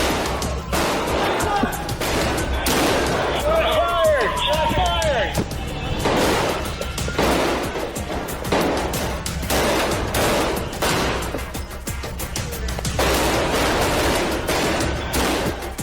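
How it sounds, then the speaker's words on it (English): Rapid, loud gunfire bursts repeat across the scene as an active shooter at a resort opens fire and police officers return fire, the sharp volleys overlapping with shouting voices. "Oddi opens fire, and the officers quickly respond."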